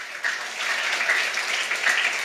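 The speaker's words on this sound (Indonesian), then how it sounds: "Tepuk tangan untuk Tuhan." A church congregation breaks into applause during a sermon, a dense, even roar of many hands clapping that holds steady for a couple of seconds.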